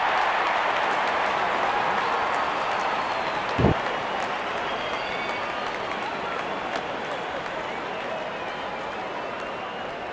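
Steady roar of a large stadium crowd cheering as the openers walk out in the Real Cricket video game during an India vs New Zealand T20 match, a continuous wash of noise with one brief louder burst.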